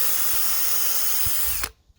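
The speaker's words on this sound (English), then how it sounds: "I drill a pilot hole first" A power drill bores a pilot hole into a hickory log for a bellows: a steady, high-pitched whirring drone close by, with a few knocks, before it stops abruptly into near silence.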